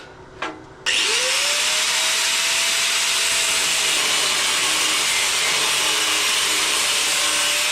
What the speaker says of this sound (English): next I want to cut a bit of this copper to make the bullet head